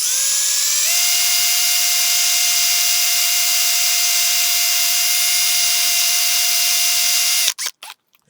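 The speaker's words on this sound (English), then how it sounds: "let's see the difference a new drill bit makes" Power drill fitted with a new bit, boring out a broken bolt, gives a loud, steady high-pitched whine that rises in pitch within the first second, holds for several seconds, then stops abruptly with a few short clicks.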